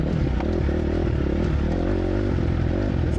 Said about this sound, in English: It's only 250, but it sounds like a monster compared to the 2-stroke.